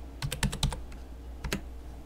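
A short value keyed in on a computer keyboard while modelling in SolidWorks 2016: a quick cluster of about five crisp key taps, a pause, then two more, close and fairly quiet.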